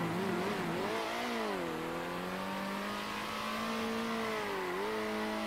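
Race car engine in the video game Circuit Superstars, a steady loud mid-pitched drone that rises and falls in pitch with throttle and gear changes, continuous throughout with no talk.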